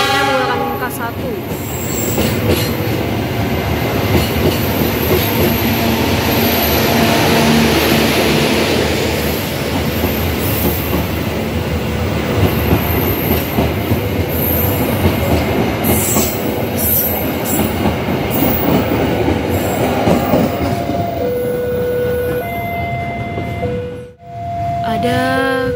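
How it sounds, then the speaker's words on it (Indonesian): A train with K1 carriages passes at close range near a railway cafe in Jogja, a loud sustained rumble of wheels and rail clatter with squealing and horn-like tones, filling the whole stretch before briefly dipping near the end. "Ada kereta mau lewat lagi nih"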